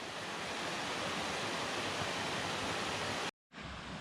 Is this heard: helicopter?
no